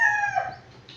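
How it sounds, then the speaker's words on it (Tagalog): A neighbour's backyard rooster lets out a single close crow, its drawn-out call fading after about a second with faint farmyard background. "maraming hayop na alagang manok ng mga kapitbahay ko."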